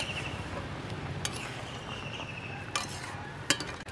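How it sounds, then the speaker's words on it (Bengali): Raw mango murabba being stirred in a pot, soft continuous bubbling and scraping with a few sharp clinks of a utensil against the metal near the end. "আবারও আমি নেড়ে দেব এইভাবে।"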